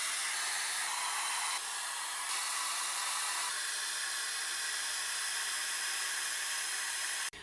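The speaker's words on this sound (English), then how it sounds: "Okay, I'm going to carry on diffusing." Hair dryer fitted with a diffuser, drying wavy hair, blowing as a loud, steady close-up whoosh with slight shifts in tone, then cutting off abruptly at the end.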